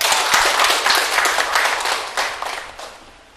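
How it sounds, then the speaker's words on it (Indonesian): Applause from a classroom of students for a classmate, a steady crowd of clapping hands that stays dense and fairly loud throughout before tapering slightly at the end. "Kita beri aplaus untuk Lola."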